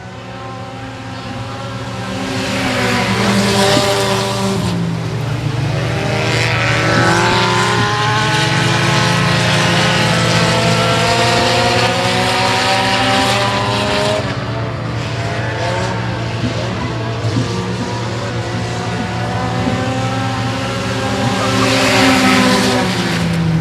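Front-wheel-drive four-cylinder race cars roar around a speedway oval in a heat race finish, a loud, continuous engine drone that rises and falls as the pack passes close by, with no talk over it.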